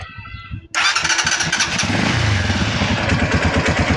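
A Euro 186 motorcycle with an odd engine noise and rough running fires up after a brief crank, then settles into a loud, close, rapid throbbing idle with mechanical clatter.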